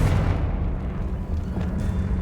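A Confringo blasting curse detonates in the Hogwarts Legacy video game, giving a loud, sustained booming rumble with dense low-end roar that dips briefly midway and then swells again.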